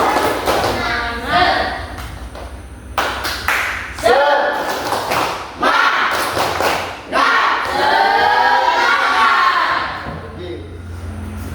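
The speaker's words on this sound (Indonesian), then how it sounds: "coba berikan Pak Guru tepuk semangat dulu" Primary school students perform a rhythmic spirit clap (tepuk semangat) for their teacher in class, patterned bursts of group clapping mixed with children's chanting voices, close and loud.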